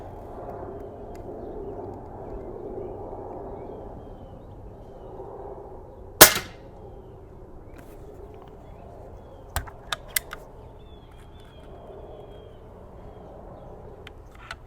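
Snowpeak MAT300 10m air rifle firing indoors, a single sharp crack midway followed by a few quieter clicks of the action, over a low steady hum.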